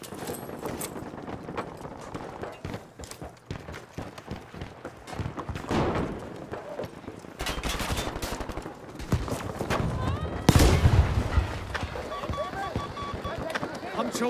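Gunfire in Battlefield 5, bursts of rapid shots and louder blasts at close range mixed with footsteps and other game noise, while a player talks over it.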